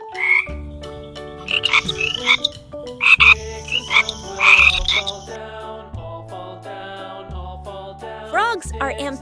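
Frog croaks come in a quick run of bright, chirping calls over a steady tonal music bed, fairly loud and close, pausing near the end before a few final rising chirps.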